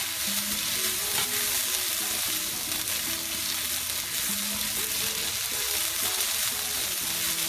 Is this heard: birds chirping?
no